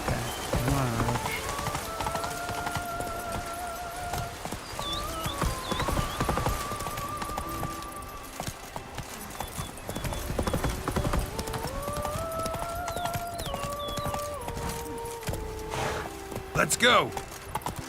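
Horse hooves clip-clopping at a gallop in the Witcher 3 video game, steady rhythmic beats with occasional whinnies and game music, while someone talks over it.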